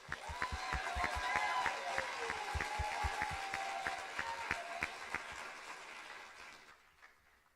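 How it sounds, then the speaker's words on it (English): Audience at a military commander's call applauding, a dense burst of close clapping that swells and then gradually thins out and fades to near silence. "so we can give just one more applause"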